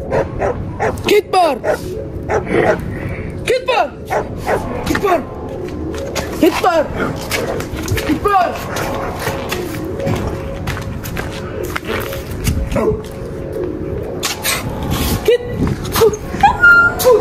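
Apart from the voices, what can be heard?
dogs barking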